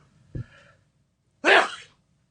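A quick sharp intake of breath followed by a loud, explosive sneeze, close by, with silence afterward.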